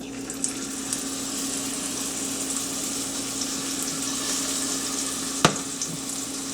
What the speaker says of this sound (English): you want to get that good sizzle on there